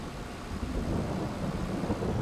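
Rain and low rumbling thunder from the farming game Farming Simulator 22 form a steady, dense wash, a continuous deep roll beneath hissing rainfall with no other sounds.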